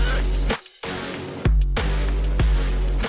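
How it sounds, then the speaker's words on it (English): Trap music with deep, booming sub-bass and sharp, punchy percussive hits, loud and dense, with a brief drop to near silence before the beat crashes back in. "Trap music, for those who don't know, sounds like this."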